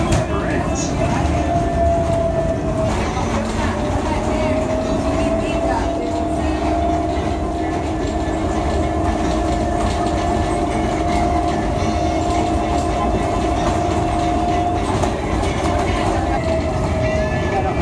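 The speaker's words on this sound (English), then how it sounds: "Its cutting-edge automatic control system, the Las Vegas monorail, runs without anyone at the wheel." Automated driverless Las Vegas monorail train running steadily throughout, a continuous rolling rumble with a sustained tonal whine and faint clatter, fairly close and loud, with some voices in the background.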